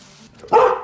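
A young puppy gives one short, sharp bark at close range, preceded by a brief faint rustle.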